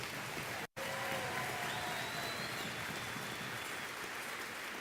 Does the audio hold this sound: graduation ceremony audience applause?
yes